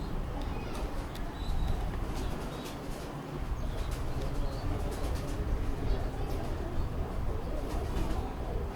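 Indian or Ferozpuri pigeons coo low among the birds at a loft on Mohni Road in Lahore. The cooing sits under a steady murmur of background noise, and people talk nearby.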